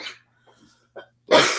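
A single sharp human sneeze bursts out close and loud after a few soft breaths and small throat sounds, in a quiet room where someone is smoking a briar pipe.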